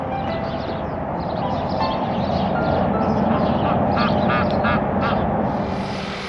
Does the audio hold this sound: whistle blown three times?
no